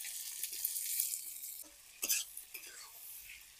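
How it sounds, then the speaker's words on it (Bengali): Onion and chopped tomato fry in a pan while a fish curry is made, giving a soft, steady hiss at low level with a few brief clinks and stirring scrapes. "পেঁয়াজটা ভাজা ভাজা হয়ে গেলে টমেটো কুচিটা দিয়ে দেব।"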